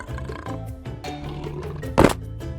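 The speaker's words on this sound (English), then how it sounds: "It's a lion." A lion roars in a children's animal-sounds setting: a brief, loud roaring burst rises over a steady, musical background near the end.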